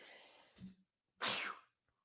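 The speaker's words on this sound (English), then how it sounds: "So I have to sneeze." A single sneeze from a person with allergies, a short inhaled lead-in followed by a loud, sharp burst, close to the mic, with a faint breath before it and no talk.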